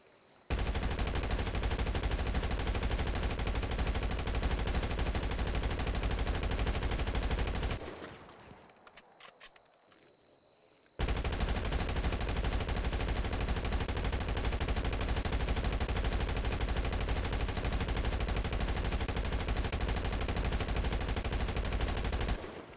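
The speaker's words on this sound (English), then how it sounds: "the final comparison of the standard tracer effect that we have now to the one that is upgraded to fire with every shot" Upgraded tracer-round gunfire in GTA Online, a video game, rattles in long loud sustained automatic bursts, cutting out briefly for a few seconds before resuming just as dense.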